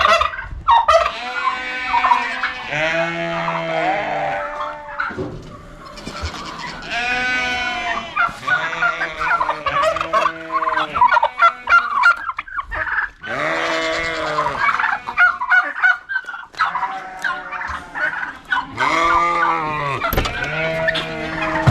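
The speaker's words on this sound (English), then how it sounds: "There's the turkeys." Turkeys gobble loudly and almost continuously, several birds overlapping in rapid warbling calls, close by with no talking.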